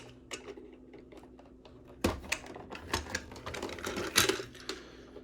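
Plastic parts of a Masterpiece MP-10 Convoy Optimus Prime Transformers toy click and snap together in a quick run of sharp, close clacks that grows busier partway through.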